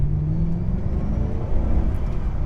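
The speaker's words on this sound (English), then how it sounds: "You hear a little V8, a little bit of supercharger whine" Stock 2005 Ford GT with a supercharged V8 puttering along at low speed, a deep steady rumble with a faint whine on top, close and continuous with no talk.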